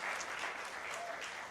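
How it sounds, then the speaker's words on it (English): An audience at a reunion event with Michael Moore and people from SiCKO gives a brief, steady round of applause, a dense wash of clapping heard from a distance at moderate volume. "So let's give Chuck Pinocchio a round of applause"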